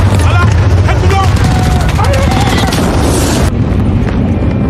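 A war film battle erupts with a loud, booming blast followed by rattling bursts of gunfire and rumbling debris, dense and continuous at close range, with a few shouted voices mixed in before the din cuts off abruptly.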